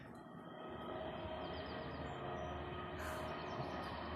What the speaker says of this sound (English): Actually, it's the train.